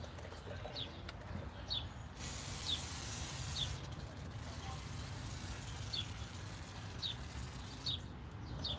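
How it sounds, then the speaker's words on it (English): A hand spray bottle mists liquid onto vinyl wrap on a 2005 Chevy Impala, a few soft hissing bursts spaced apart over a steady outdoor background. "So I'm gonna spray some more."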